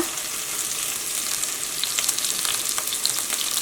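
Chopped onion and curry leaves sizzle steadily in hot coconut oil in a pan, a soft continuous crackle with occasional sharper pops and no voices over it.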